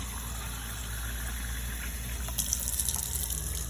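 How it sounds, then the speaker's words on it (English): Two cups of water pour steadily into a pot over uncooked, unrinsed rice, a continuous close gushing splash that brightens toward the end. "2 cups of water."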